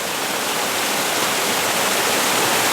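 Autumn waterfall spilling over rocks near a small puddle, a steady, dense broadband rush close to the microphone, unbroken and alone with no voices.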